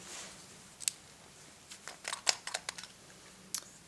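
A small plastic contact lens case with left and right compartments gives a handful of quiet clicks and snaps as its lids are opened, faint and close, scattered across a near-silent background.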